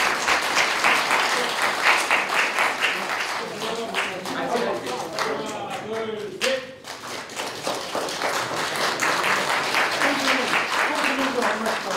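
A crowd claps steadily and energetically for several seconds, with voices murmuring and calling out under the dense applause.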